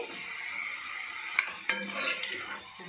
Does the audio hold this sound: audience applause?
no